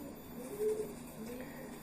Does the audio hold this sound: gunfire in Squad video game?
no